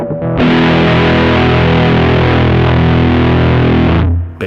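Electric guitar through a Mosky Mini Muff fuzz pedal with the tone knob fully off, a single loud, thick, dull distorted chord held for about four seconds before it is cut off.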